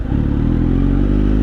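A Kawasaki Z900 motorcycle engine with a loud, close, steady low throb and a fast pulsing beat, running evenly throughout.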